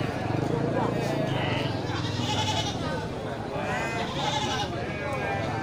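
Goats bleat repeatedly amid a busy crowd at an outdoor livestock market under a tamarind tree, with people talking throughout and animal calls rising over the chatter.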